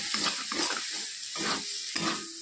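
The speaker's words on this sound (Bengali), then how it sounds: "মশলাটাকে ভালো করে ভাজতে হবে" Spice paste and tomato fry in a pan with a moist sizzle, broken up by repeated scraping stirs that come in short, uneven bursts close by.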